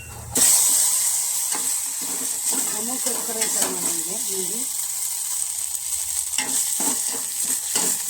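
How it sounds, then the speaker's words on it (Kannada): Cardamom fries in hot ghee in a pan, giving a steady bright sizzle with stirring scrapes throughout, while someone speaks over it. "ಇನ್ನು ಏಲಕ್ಕಿ ಅದು ಎಲ್ಲ ಅದಕ್ಕೆ ಹಾಕಿದ್ದೀನಿ ಚೂರು ಫ್ರೈ ಮಾಡ್ಕೊಂಬಿಡೋಣ"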